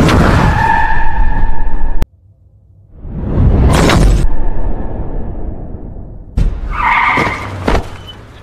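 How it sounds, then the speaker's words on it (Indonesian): A staged film crash of a car striking two people: tyres skid loudly, then a sharp impact with a crunching, shattering burst. A short silence follows before a rushing swoosh and a second heavy hit with debris. "Dongwon dan Seokwon ternyata ditabrak oleh sebuah mobil"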